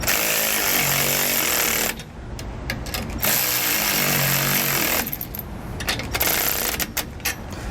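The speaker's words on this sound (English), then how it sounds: "start tightening up those 3/8 nuts with the 9/16 socket" An impact tool drives 3/8 nuts with a 9/16 socket while a Roadmaster Reflex steering stabilizer is mounted on a 2018 Forest River Georgetown motorhome, producing loud, sustained buzzing bursts broken by two short pauses.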